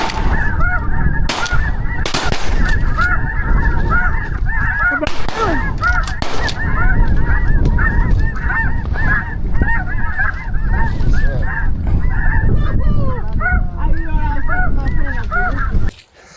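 Large flock of snow geese honking during an Arkansas hunt, dense overlapping high nasal calls nearby and continuous, with several sharp bursts like gunshots early on.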